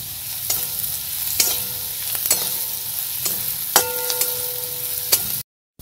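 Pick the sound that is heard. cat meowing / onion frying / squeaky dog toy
onion frying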